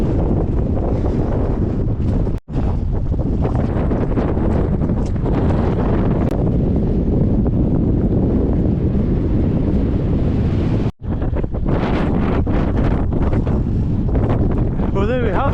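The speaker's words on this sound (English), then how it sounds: "I need to stop filming a lot because it is windy" Strong wind buffets a GoPro microphone near the Forth Bridge, a loud, constant roaring rumble that fills the whole stretch, broken by two brief dropouts.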